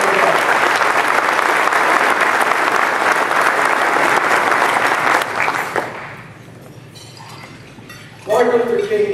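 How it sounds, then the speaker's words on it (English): Audience at a city State of the City event applauding loudly with sustained clapping for several seconds, fading out, followed by a person beginning to speak. "Please give these two wonderful groups a round of applause"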